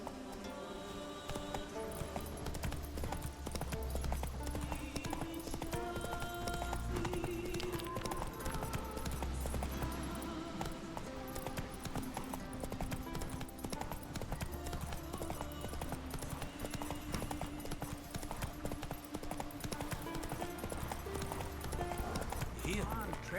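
Horse hooves clip-clop at a steady gallop on Skellige in The Witcher 3, a continuous rhythmic beat under loud game music and ambience, with brief talk nearby.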